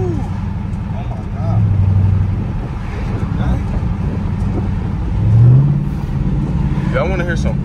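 A Dodge SRT8 widebody car's engine revs twice in low swells over a steady rumble, with people talking throughout.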